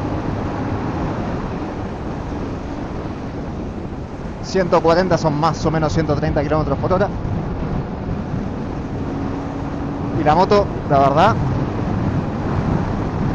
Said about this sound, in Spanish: ahora tengo viento en contra y no lo estoy sufriendo